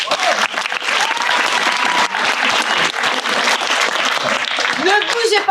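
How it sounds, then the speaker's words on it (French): Audience at an improv theatre show clapping after a scene: dense, loud, continuous applause from a close crowd, with a brief voice rising over it near the end. "on peut les applaudir quand même"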